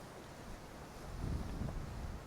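Steady wind buffeting a beach at Costa Teguise, a continuous low rushing roar that swells slightly louder partway through, with no voices.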